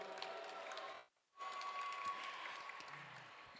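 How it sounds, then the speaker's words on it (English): Audience applause at the 2024 WPC China event, a dense, steady clapping crowd that breaks off abruptly for a moment near the middle, then resumes just as loud and continues to the end. "So how about we give her a big round of applause"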